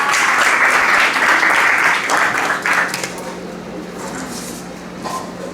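An audience applauds at an event in San Miguel, El Salvador, with dense clapping for about three seconds before it trails off into quieter room sound and faint voices.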